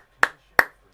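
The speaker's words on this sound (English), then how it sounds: "Give you a clap on that for being honest." Three sharp hand claps, evenly spaced and close, each ringing out briefly against silence.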